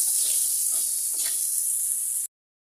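One cup of chopped onions frying in hot oil left over from frying fish, a bright, continuous sizzle with a few soft stirring scrapes, close and loud, then abruptly cut to silence.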